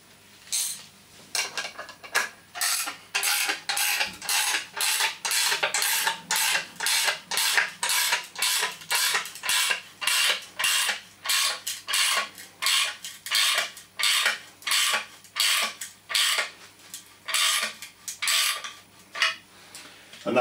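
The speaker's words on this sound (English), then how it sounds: "all you need to do is tighten it up using a spanner" A spanner ratchets a thru bolt tight into concrete, a steady series of loud, evenly spaced metallic clicking bursts repeating close by for the whole stretch, with no voices.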